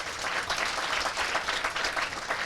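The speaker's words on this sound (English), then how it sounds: "Clap for yourselves." Crowd applause at an outdoor festival at a university graduation square in Nairobi: a sustained, dense burst of many hands clapping, fairly loud and continuous with no speech over it.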